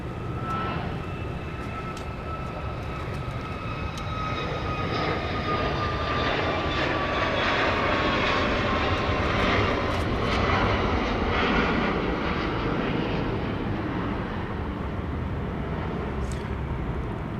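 A jet airliner takes off from Dallas Love Field bound for Denver, its engines building into a loud, steady roar that swells and holds throughout, heard from a distance with no talk over it.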